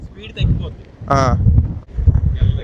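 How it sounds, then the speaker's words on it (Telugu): Strong gusting wind beside wind turbines at Lake Assal, Djibouti, buffeting the microphone in loud rumbling bursts, with people talking over it. "ఇంత గాలి వస్తుంది ఇక్కడ ఈ విండ్ మిల్స్ దగ్గర"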